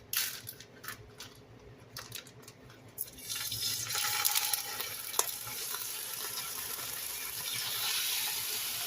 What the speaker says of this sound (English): I got about a teaspoon or a tablespoon of oil heating up in my skillet, and I'm going to add 1 pound of ground beef